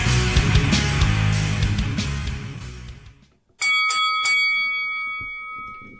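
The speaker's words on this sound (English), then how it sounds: "And the bell has rung, and we are here." Music fades out, a moment of silence, then a bell rings out with a few quick bright strikes and a long, clear ringing tone that slowly decays.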